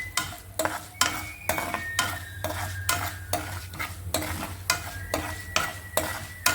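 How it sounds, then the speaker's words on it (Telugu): Dried red chillies frying in oil with asafoetida for a wood apple chutney, with a steady rhythmic scraping of a spatula against the pan over a continuous sizzle, close and clear. "ఎండుమిరపకాయలు కొంచెం వేగాక కొద్దిగా ఎండుమిరపకాయలు వేసుకోవాలి."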